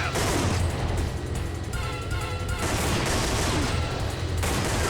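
Rapid bursts of gunfire from the PS1 arcade shooter Time Crisis crackle continuously over a busy game soundtrack, loud and dense with short breaks between volleys.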